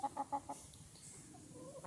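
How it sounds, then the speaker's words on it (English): Grown backyard hens give a quick run of four close, rhythmic clucks, then settle into softer, quieter farmyard murmuring. "So we got our all grown up lady chickens."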